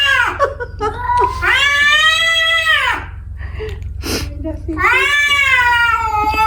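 A white cat meows and caterwauls in long, drawn-out wailing cries, loud and close, with short pauses between calls.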